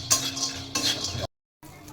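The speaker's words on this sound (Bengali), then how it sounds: "বাদামটা শুধু ভাজা করলে হয়ে যাবে।" Peanuts are stirred in a hot pan while fried for a snack, making close, scraping clatter in two short bursts. The sound stops briefly, then picks up again.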